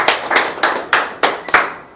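A handful of sharp hand claps, about six in an evenly spaced rhythm, close and fairly loud, from a seminar audience in Sunder Nagar, Himachal Pradesh.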